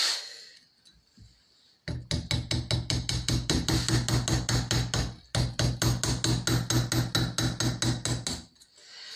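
Rapid, evenly spaced hammer taps on metal during chasing work, a close, bright metallic patter in two long bursts separated by a short break.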